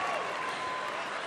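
The audience at the Miss Universe 2022 pageant applauds the top 16 contestants, a brief, even wash of crowd clapping with a voice faintly mixed in.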